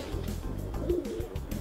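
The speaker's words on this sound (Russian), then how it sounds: "здесь работает голубятня." Pigeons at a working town dovecote give a soft, low coo, faint and close, against a quiet background.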